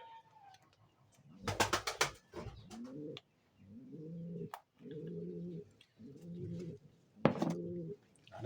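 Pigeons cooing close by in a repeating series of low, throaty rolling calls, with a few sharp clicks and flutters between them.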